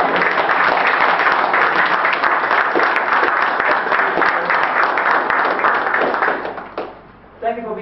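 A talk show studio audience applauds a guest with loud, dense, continuous clapping that holds steady for several seconds, then thins out and fades near the end.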